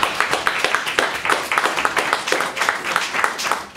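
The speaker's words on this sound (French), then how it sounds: "On l'applaudit, on l'encourage." Audience applause at a French entrepreneurs' meetup, a dense, steady wash of many hands clapping that fills the whole stretch at a lively, even level.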